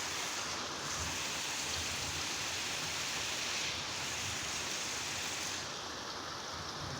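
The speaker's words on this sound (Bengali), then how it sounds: "খুব সুন্দর বৃষ্টি পড়ছে ধীরে ধীরে।" Light, steady rain falling slowly, a soft and even wash of hiss that runs the whole time without a break and with no voices over it.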